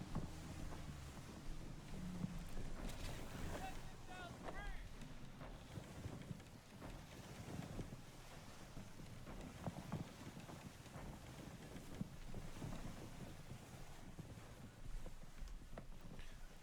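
Ship sailing in the pirate video game Skull and Bones, a continuous rush of wind and water beneath creaking hull and rigging with irregular knocking, steady and fairly quiet throughout with no talking.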